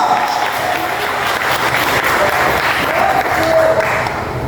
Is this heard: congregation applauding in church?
yes